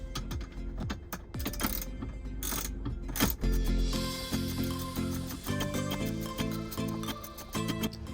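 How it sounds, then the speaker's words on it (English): A hand ratchet tightens 10mm bolts on a swivel screen mount in a Tesla Model 3/Y, giving steady close clicking with dense rapid pawl ticks and a few short pauses. "I tilted it this way so I can easily put these 10mm bolts back in."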